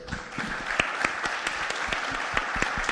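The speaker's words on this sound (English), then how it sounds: "A round of applause for our esteemed panelists." A conference panel audience gives a modest round of applause, scattered individual claps standing out over a softer wash of hands, fairly distant and brief.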